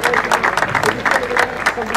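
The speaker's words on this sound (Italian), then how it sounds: "un grande applauso a Silvio." Crowd applause at the 25th Luzzi–Sambucina hill climb car race in 2021, a dense, steady patter of clapping heard close and loud, with an announcer's voice mixed into the noise.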